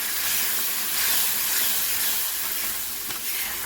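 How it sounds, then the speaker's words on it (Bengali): Loud, steady sizzling hiss fills the pan as soaked spice paste hits hot oil in a bhola fish curry being stir-fried, a dense close crackle holding constant without pause. "পাঁচ মিনিট যে মশলার গুঁড়োটা বানিয়ে ভিজিয়ে রেখেছিলাম ওইটা এর মধ্যে দিয়ে দিলাম। দিয়ে ভালো করে কষাবো।"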